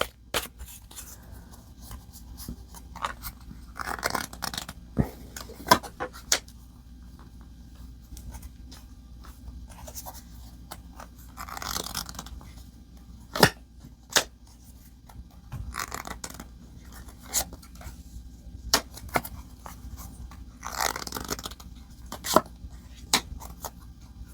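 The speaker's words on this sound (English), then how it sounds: "I'm going to draw a few of these cards and then get some clarifier cards" Light Seer Tarot cards handled and drawn up close, with soft repeated flicks, slides and taps of card stock against a quiet steady background hum.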